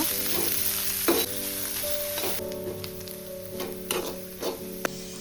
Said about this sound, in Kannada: ಎರಡು ಈರುಳ್ಳಿ ಹಾಕ್ಕೊಂಡು ಚೆನ್ನಾಗಿ ಫ್ರೈ ಮಾಡ್ಕೋಬೇಕು